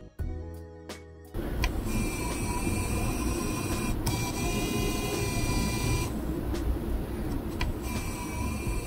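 Autofocus motor of a Sigma 70mm F2.8 DG macro lens, a loud, slow mechanical whirring and grinding that runs steadily and close up after a brief quieter start, with a few short clicks.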